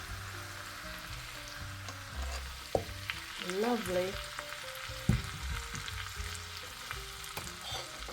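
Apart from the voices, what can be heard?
Sichuan chilli oil sizzling as it is poured through a sieve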